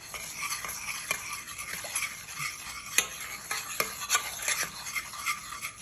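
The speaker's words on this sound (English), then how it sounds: "Mix that really good." A utensil stirs salted caramel in a pan just taken off the stove, giving repeated scraping strokes and sharp metallic clinks against the pan with no voices.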